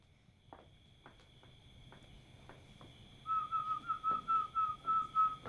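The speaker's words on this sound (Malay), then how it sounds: "boleh tak berhenti saat bersiul tu?" A person whistles a steady, repeated tune in short rising phrases, close and clear, after a few quiet footstep-like taps.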